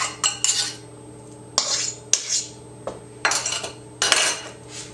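A spoon scrapes and clinks around a bowl while banana bread batter is mixed, in uneven strokes with sharp knocks against the side, close and clear, with no speech.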